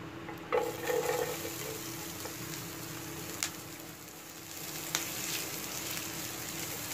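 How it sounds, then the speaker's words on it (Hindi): Onion frying in a pan over already roasted cumin, with a steady soft sizzle throughout, a few brief clatters from stirring, and no talking. "ज़ीरा हमारा भुन गया है तो हम इसमें अब प्याज ऐड कर देंगे"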